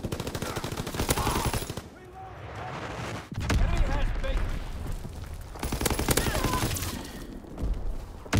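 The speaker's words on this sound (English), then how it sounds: "Dropping Azon bomb." Azon bomb strikes in a Call of Duty WWII Domination match: heavy booming blasts mixed with rapid gunfire bursts, loud and dense, with a game announcer's voice over the chaos.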